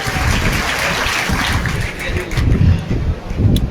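Crowd applause at a sports festival inauguration ceremony in Katni, a loud, continuous wash of clapping that swells toward the end.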